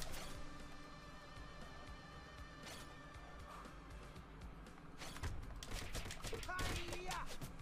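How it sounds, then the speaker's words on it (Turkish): Enemies dropping bombs in TMNT Shredder's Revenge, a game fight with crashing impacts and sharp bursts of explosions growing denser and louder toward the end, over steady game music. "Bomba bırakıyorlar."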